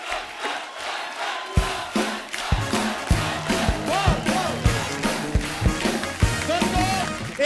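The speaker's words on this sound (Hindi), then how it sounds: "जोरदार तालियां हमारी क्रिकेट टीम के लिए" Loud studio audience on a comedy show applauding and cheering for a cricket team, a dense roar of claps and shouts with music swelling underneath, continuous throughout.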